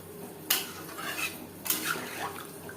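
Water is poured into a pan of rui fish curry with potatoes over a high gas flame, making two sharp hissing splashes followed by soft sizzling and faint clinks of utensils.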